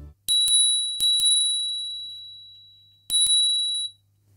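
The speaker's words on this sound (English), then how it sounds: "We have this, this bell." Handlebar bell on an iEZway EZ6 electric scooter rings in three quick double dings, bright and close, each ring trailing into a long metallic sustain, with no talking.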